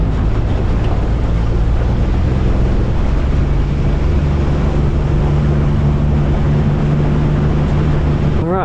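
Steady wind buffets the microphone aboard a fishing boat out on open water, with a low engine-like drone and water noise running continuously underneath and no talking.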